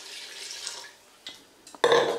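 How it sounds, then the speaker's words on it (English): Water running into a cooking pot holding chicken, a soft hiss that fades, a couple of small knocks, then a louder rush of pouring near the end, close by with no voices. "We will go ahead to fill up the chicken with water."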